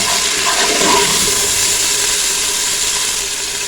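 Beef korma ingredients frying in a pan, a steady broad sizzling hiss that holds loud and unbroken for a few seconds before easing slightly, with no voices.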